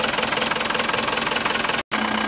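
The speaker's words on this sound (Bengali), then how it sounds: "দেখতে পাচ্ছেন ইঞ্জিনের সাউন্ড নতুনের মতন।" Diesel engine of a Tata truck idling steadily with a regular knocking chug, close and fairly loud, broken by one brief dropout near the end.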